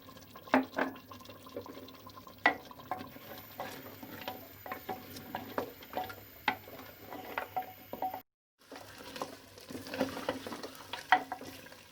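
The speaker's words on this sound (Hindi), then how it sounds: "मैं थोड़ा थोड़ा दही डालकर मटन को तेज़ आंच पर अच्छी तरह भून लूँगी।" Mutton browns in a pot with yogurt added over high heat, giving a soft sizzle under repeated clinking, scraping stirs of a utensil against the pan, with one brief pause midway.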